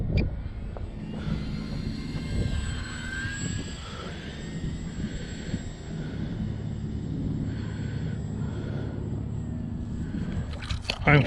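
A Parkzone T28 radio-controlled model plane flies during a Sunday session, its electric motor whining continuously with pitch swells as it passes, moderately loud throughout.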